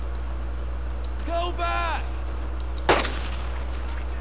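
Gunfire in the Xbox game Brothers in Arms: Earned in Blood, with one sharp loud shot near the end after a stretch of in-game voices and background hum.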